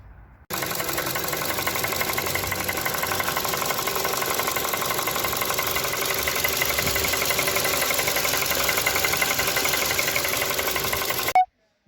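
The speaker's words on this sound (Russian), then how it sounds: "подозрительный тот шум двигателя, стук" A Ford Kuga 2.5 engine idles at a steady level from start to finish, with a fine rapid knocking ticking through the even mechanical drone.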